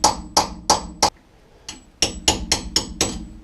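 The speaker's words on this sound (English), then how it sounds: "I'm gonna use chisel and see what we can do about it." Sharp hammer blows drive a chisel into a seized rear ABS wheel speed sensor on a VW Golf Mk4, about ten loud metallic strikes in quick rhythmic clusters with a brief pause midway.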